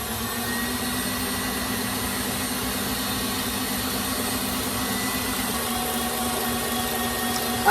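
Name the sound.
electric mixer whipping snickerdoodle frosting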